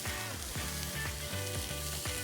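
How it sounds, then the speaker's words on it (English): Wagyu beef slices sear on a yakiniku grill with a loud, continuous, crackling sizzle that holds steady throughout. "You see, it develops a nice sear."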